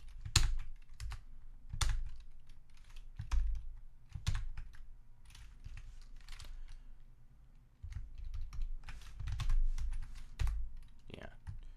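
Typing on a computer keyboard at a desk while coding: irregular clusters of sharp key clacks, close and fairly quiet, with a few louder taps and soft pauses between bursts.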